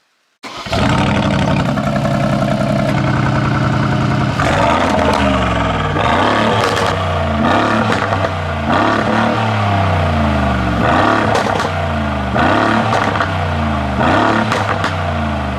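A 740 hp Mercedes G63 AMG G-Wagon V8 starts, settles to a rumbling idle, then gets a series of repeated throttle blips with rising and falling revs, loud and close, no talking.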